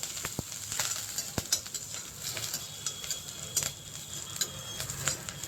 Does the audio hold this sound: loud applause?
no